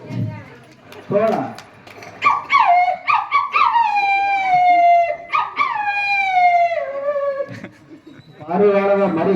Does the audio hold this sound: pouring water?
no